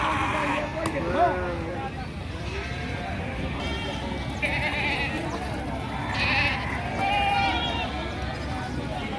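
Sheep and goats bleat repeatedly at the crowded Gangadhara livestock market, their calls rising over a dense murmur of people talking, with scattered hoof and shuffling sounds throughout.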